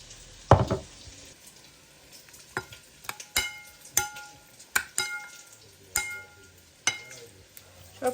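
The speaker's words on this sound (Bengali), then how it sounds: "চিকেনটা কি করব তাড়াতাড়ি করে একটু সয়া সস আর একটু গোলমরিচের গুঁড়ো দিয়ে মেখে নিয়ে এটা ভেজে নেব" Soy sauce and black pepper marinated chicken fries in a pan, a low steady sizzle broken by repeated sharp clicks and scrapes of stirring and utensils, close by with no talking.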